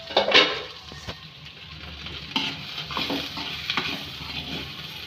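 Ivy gourd (thondekai) palya cooking over a low flame, a pan sizzling softly while a utensil stirs and scrapes through it in irregular strokes, close up with no talk.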